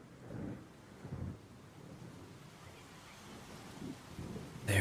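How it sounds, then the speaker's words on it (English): Thunder rolling during rain outside an open window, with low, distant rumbles swelling and fading in several waves over a faint, steady rain hiss. "There's also thunder,"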